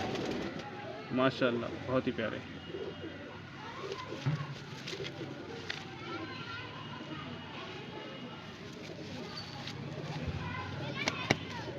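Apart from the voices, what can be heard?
pigeons cooing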